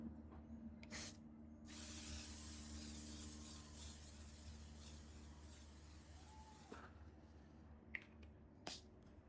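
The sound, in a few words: makeup setting spray being sprayed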